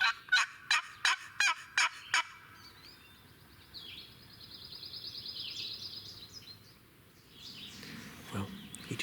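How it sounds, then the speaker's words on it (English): A wild turkey gobbles in a rapid burst of about six sharp, loud calls at the start, followed by quieter outdoor ambience and faint, more distant calls during a Maine turkey hunt. "Well, he just gobbled again, and he's, sounds like he's getting further out"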